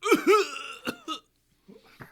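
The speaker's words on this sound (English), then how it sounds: "He just coughs." A man gives a few short, rough coughs in quick succession, then a pause and a quieter cough, close to the microphone, with no other talk.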